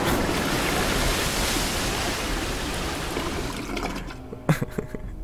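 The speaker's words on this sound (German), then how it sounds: "So eine Klospülung. Ziemlich große Klospülung." A large toilet flush in the video game Ankh, triggered by pulling a chain, roars as a loud, sustained rush of water for about four seconds, then cuts out, leaving a few faint knocks and drips.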